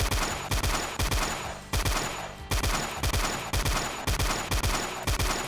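Rapid bursts of chain gun fire in the game Doom, loud and close, repeating in steady rattling volleys with brief pauses between them and no talking.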